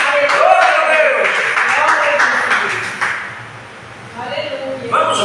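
A church congregation claps in a dense wash of applause during a Portuguese-language service, with voices and cheering mixed in before the clapping thins out and fades.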